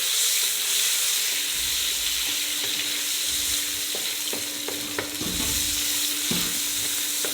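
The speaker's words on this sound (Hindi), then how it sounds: "इनको हमने एक साथ भून लेना है। प्याज, अदरक और लहसुन हमारे ब्राउन हो गए।" Chopped onion, ginger and garlic sizzle and fry in a hot pan, a steady loud crackling hiss broken by the repeated scrape and clack of a spoon stirring through them.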